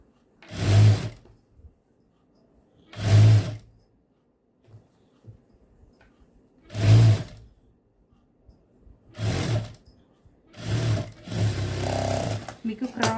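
A sewing machine stitches a hem in five separate bursts, each a loud, close whirring run lasting about a second, with short quiet gaps between and the last bursts coming longer and closer together.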